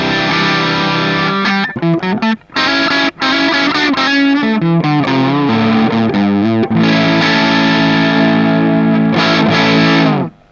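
Distorted electric guitar played through a Flamma FS06 preamp on its Fender voice, a driven clean-crunch amp tone; continuous chords and riffs with brief gaps, loud and close throughout, no talking.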